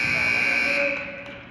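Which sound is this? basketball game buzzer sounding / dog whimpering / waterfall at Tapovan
basketball game buzzer sounding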